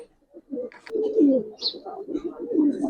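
Giribaz pigeons coo close by in soft, throaty, rolling phrases, several overlapping calls, with a faint higher chirp mixed in.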